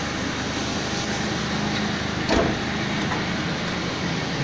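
A Ford Ranger with a converted 4WD shifter running with its rear wheels and drive shaft turning, a steady mechanical whirring drone with one short bump midway and no voices.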